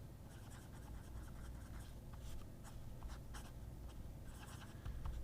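A Magna Carta M800 fountain pen with a medium steel nib writes on paper, its faint, close nib scratches coming in short strokes against a quiet, hushed room.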